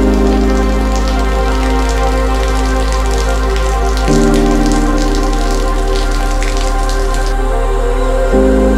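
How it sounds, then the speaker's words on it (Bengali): Steady rain falls at the Mahabaleshwar hill resort, a dense, continuous patter on surfaces heard up close, with a constant low hum underneath. "দেখো বৃষ্টির জল বৃষ্টি করে যাচ্ছে সমান"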